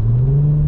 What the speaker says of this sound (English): all I can hear is the drone of the exhaust